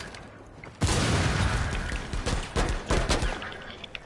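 Rainbow Six Siege gunfight: a sudden burst of rapid automatic fire erupts, followed by several more staccato volleys and scattered single shots, loud and close, with no talking over it.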